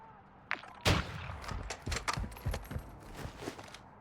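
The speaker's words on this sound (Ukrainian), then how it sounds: "Справа таке відчуття, ніби постріли." Gunfire in the distance during a Call of Duty DMZ match: scattered sharp reports, a few single shots then a looser burst, faint and far, with game ambience underneath.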